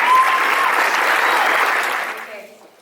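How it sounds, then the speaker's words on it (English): Graduation audience at a college ceremony applauding its teachers, a dense wash of clapping that holds steady and then fades out over the last second. "a big hand of applause again for our teachers"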